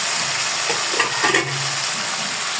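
Stalks fry in a spice masala for chicken curry, giving a steady, close sizzle throughout with a few soft stirring scrapes.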